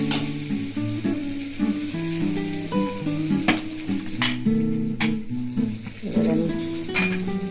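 Ginger paste and red chilli sizzle in hot oil for an aloo potol korma, a steady crackling fry with light stirring clatter throughout.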